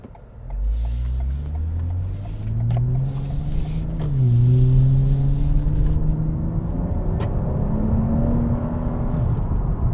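Engine of a 2020 Toyota Camry TRD heard from inside as the car slows to a stop, a steady loud drone with falling and shifting pitch, a brief dip around midway, then settling into a continuous rumbling idle-like tone.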